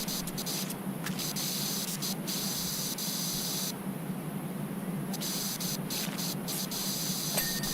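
A pressure washer sprays steadily in PowerWash Simulator 2, a constant hissing jet that runs throughout with brief breaks in its bright edge, faint and even.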